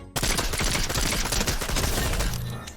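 Rapid SMG hip fire at about 10 meters in Fortnite, a loud, dense burst of automatic shots lasting over two seconds before tapering off.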